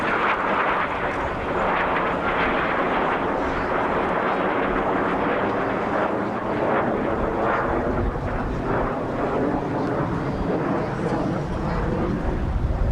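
Two Hawker Hunter jets fly a mirror formation pass at the RAF Scampton airshow in 1989, producing a continuous, loud, broadband jet roar that holds steady throughout with some rumbling variation.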